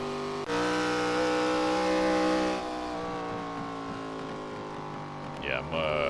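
A simulated ARCA stock car engine drones at high revs on a fast lap at Iowa in the iRacing game, its steady harmonic whine shifting pitch as speed changes, loud and continuous with a brief sharp squeal near the end.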